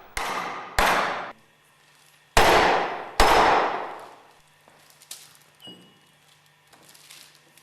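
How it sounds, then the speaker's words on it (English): A rubber mallet taps a clutch driver into a grooved ball bearing during a Westfalia purifier overhaul: four sharp, ringing blows in two pairs, close and loud, followed by smaller clinks and handling noises. "Carefully hammer the clutch driver into the grooved ball bearing with light blows using a rubber mallet."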